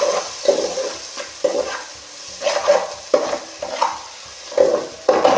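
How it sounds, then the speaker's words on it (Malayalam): Sliced onion sautéing in oil for Karnataka-style egg rice, repeated rhythmic scrapes of a spatula in the pan, roughly every half second to second, over a light sizzle, close with no speech. "ഒരു സവാളയാണ് ഞാനിപ്പോൾ മുറിച്ച് ഇട്ട് കൊടുത്തത്. അത് നന്നായിട്ടൊന്ന് വഴറ്റി കൊടുക്കാം"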